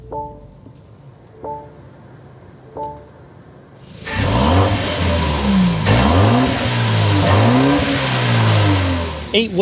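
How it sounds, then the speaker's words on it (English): A 2024 BMW X1 M35i starts with a loud whooshing catch, then the exhaust note rises and falls through several sharp revs before settling, heard up close and drowning out everything else. "start it up, so you can hear that exhaust note"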